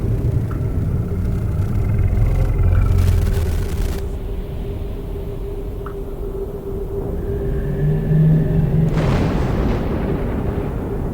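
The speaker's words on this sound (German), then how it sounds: "es war auf alle Fälle Gewitter" Thunder from a storm in the video game The Alien Cube rumbles as a deep, continuous roll, swelling and easing over several seconds, with a couple of stronger low surges.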